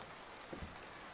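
Heavy rain falling outside in a video game set in Louisiana, a faint continuous hiss of rain with a few soft drop-like patters and no voices.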